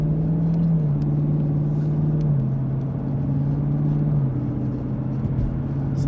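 Car driving along Childa Valley Road in Bradley County, Tennessee, heard from inside the cabin as a steady, loud engine and road drone with a sustained low tone that dips slightly in pitch, no talk.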